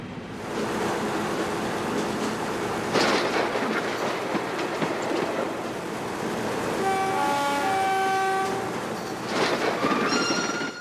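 Railway carriages rumble and clatter steadily as night trains pass in the opposite direction, with a loud rolling roar, a sharp whooshing burst around the passing, and bright squealing tones toward the end.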